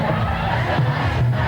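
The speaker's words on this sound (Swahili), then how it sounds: "Mapacha, piga vigelegele kwake jamani" Women at a Swahili wedding celebration break into high trilling ululation amid a noisy crowd, shrill warbling bursts rising over general cheering and chatter.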